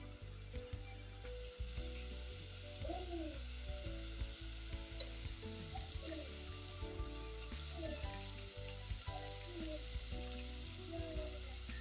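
Peppered gizzard stirred in a hot pan, a quiet ongoing sizzle broken by repeated scraping strokes and soft clatters of a spoon against the pan, with faint background tones.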